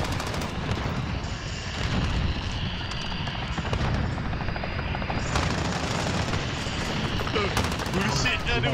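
An enemy chopper gunner in Call of Duty Modern Warfare fires as a steady helicopter drone runs under rapid bursts of machine-gun fire and distant booms during a Gun Runner Domination match, with players talking over it.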